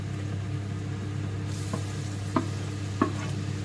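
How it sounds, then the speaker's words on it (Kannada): Tomato added to a frying pan while cooking a fish dish: a low steady sizzle with a constant hum beneath, broken by a few soft clatters and stirring knocks near the end. "ಈಗ ಟೊಮೆಟೊ ಹಾಕ್ತೇನೆ"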